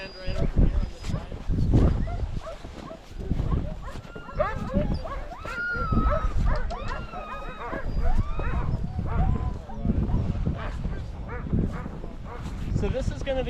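Sled dogs at Punchbowl Glacier in Alaska bark and yelp repeatedly, near and excited, under someone talking almost throughout.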